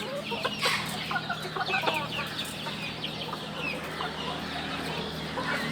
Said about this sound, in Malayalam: നമ്മുടെ കൊച്ചിൻ ബാൻഡം